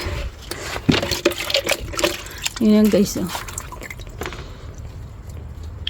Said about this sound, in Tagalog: Kuha pa tayo ng tubig.